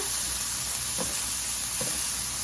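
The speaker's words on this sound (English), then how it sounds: "So we're just going to saute this until this is tender" Green pepper and onion sauté in a hot pan with a steady, close sizzle and hiss, broken by a couple of faint stirring scrapes.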